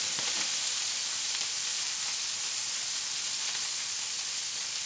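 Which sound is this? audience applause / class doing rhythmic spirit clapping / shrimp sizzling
shrimp sizzling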